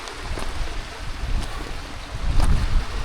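Steady rushing water from waterfalls in the Lake District, with broadband roar and occasional gusts, a continuous outdoor wash that swells louder near the end.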